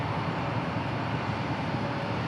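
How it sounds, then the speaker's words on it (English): A Frontier Airbus A320neo airliner rolls onto the runway at Dallas/Fort Worth International Airport, its engines a steady, loud, broadband roar that holds without letup. "Frontier taking the runway now."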